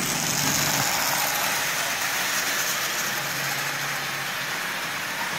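A Marx single reduction toy train motor, assembled from parts, runs steadily and close by, giving a continuous mechanical whir and hum with no talking.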